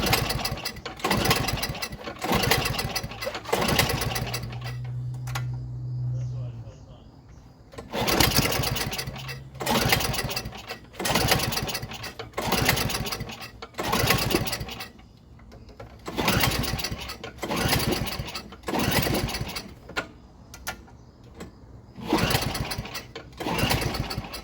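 A snowblower engine being pull-started over and over, rhythmic bursts of cranking and sputtering firing in quick pulls with short pauses, and a brief hum partway through, loud and close.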